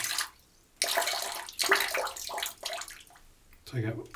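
Water runs and splashes from a soaked shaving brush as it is squeezed out, coming in several short bursts separated by brief pauses, close and fairly clear.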